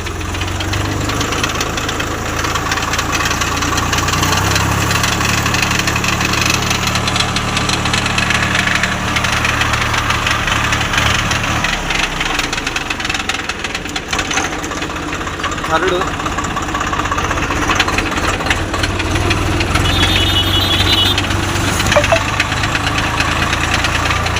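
Swaraj 744FE tractor running in gear with a gearbox fault, a loud, continuous close-up engine drone with a rough knocking, vibrating character that holds steady throughout.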